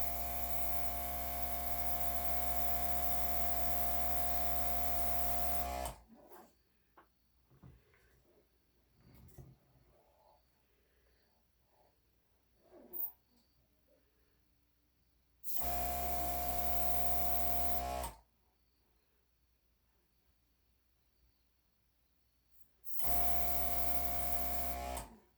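An airbrush blows out trapped paint in three bursts of steady hissing air with a strong tonal whine, each several seconds long, loud and close, separated by near-silent gaps.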